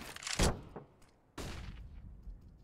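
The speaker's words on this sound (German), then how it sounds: "Schöner Schuss von Light" Gunshots in the video game Counter-Strike on the Dust II map: a sharp close burst of fire, then a second louder volley about a second later, with quieter clicks and thuds between.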